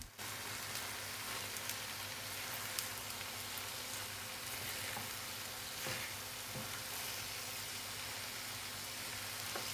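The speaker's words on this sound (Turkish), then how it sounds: "Artık makarnayı da ekleyebiliriz. Alttaki sosu iyice yedirelim arkadaşlar." Pasta being stirred into a milk and tomato-paste sauce in a pan, a steady close sizzle with soft scraping and stirring running evenly through the whole stretch, with no talk.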